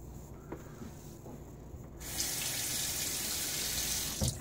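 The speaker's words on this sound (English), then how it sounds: "Let's just do that final rinse." Tap water runs into a sink for a final rinse after a wet shave with a Rockwell 6S razor, a faint hiss at first that swells into a steady, full gush of flowing water halfway through, near and continuous.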